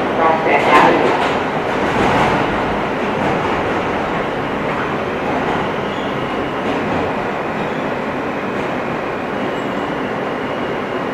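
Rider's-eye rumble inside an R160 F subway car traveling toward Manhattan on the local line: dense, steady roar of wheels and motors, slightly louder at first, then a continuous even drone.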